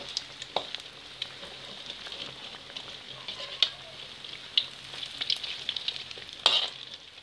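Thai grilled rice cakes with egg fry in oil, a steady bright sizzle scattered with sharp crackles and pops, one near the end louder than the rest, with no one speaking.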